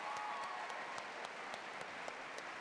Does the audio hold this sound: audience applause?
yes